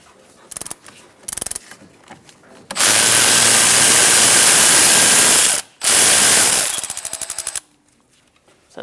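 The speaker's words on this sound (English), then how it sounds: "Using a 17mm socket. I'll loosen up these bolts." Brake caliper bolts on a 2004-2009 Mazda 3 being loosened with a 17mm socket: short ratchet clicks, then a long loud burst of an impact gun, a brief pause, another burst, and a few trailing ratchet clicks.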